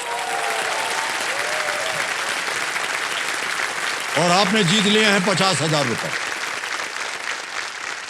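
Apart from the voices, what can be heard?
studio audience applause on a quiz show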